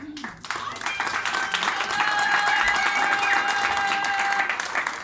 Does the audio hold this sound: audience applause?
yes